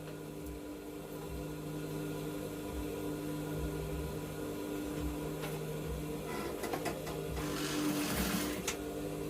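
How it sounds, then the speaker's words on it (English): A sewing machine stitches a fabric hem on Yoruba native wear, running with a steady, fast mechanical whir and rapid needle chatter that continues throughout, fairly quiet and close, no talking. "and I'll sew out of the 2 inches."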